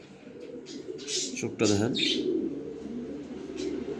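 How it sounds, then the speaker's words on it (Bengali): A female racer pigeon coos softly nearby amid other bird chirps, while someone talks over it. "এখানে এক পিস রেসারের মাদি কবুতর আছে"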